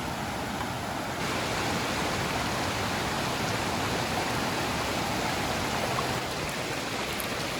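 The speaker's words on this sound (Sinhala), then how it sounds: "ඉතින් මචං ඔන්න ඇල්ලට ආවා අපි" Rushing waterfall in Sri Lanka, running strong and heavy, roars as a steady, dense wash of water noise, close and continuous with no voices.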